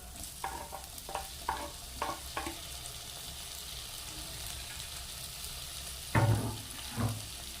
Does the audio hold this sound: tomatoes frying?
yes